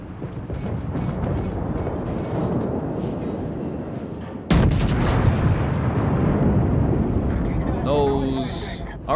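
Naval gunfire and torpedo action from warships in the World of Warships video game, a dense rumbling roar of heavy guns with a sharp loud blast midway, continuing under a voice that speaks throughout.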